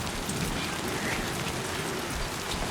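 Steady, dense rain in the video game Death Stranding 2 hisses loudly and continuously with no let-up and no voices.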